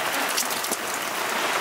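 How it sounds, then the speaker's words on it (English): Heavy rain pours down during a squall at sea on a sailing passage toward the Tuamotu, a dense, steady close hiss of drops drumming on surfaces with no pauses. "Dumping rain and no wind."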